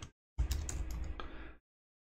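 Rapid keystrokes clatter on a computer keyboard in one short, close burst of about a second, with a brief tap just before it.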